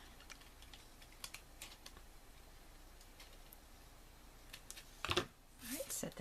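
A piece of card stock is trimmed for a handmade Thanksgiving greeting card: light scattered taps and rustles, then a sharp, close cutting swish and a brief scraping slide near the end.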